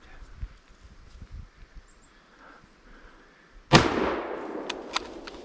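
A single loud rifle shot cracks out during a moose hunt, a sharp blast with a long echoing decay across open country, after quiet whispered talk.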